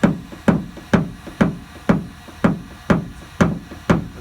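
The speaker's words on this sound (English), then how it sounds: "I'm kind of throwing the hammer into it." Steady hammer taps on a Dodge car body panel during paintless dent repair, about two per second, each a sharp close knock with a brief ring, nine strikes in a row.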